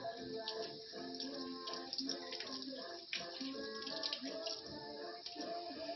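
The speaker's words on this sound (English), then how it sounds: "Normally I say run them under the cold tap" Cold water from a kitchen tap runs steadily over hot boiled eggs, a continuous close splashing gush that holds at an even level throughout.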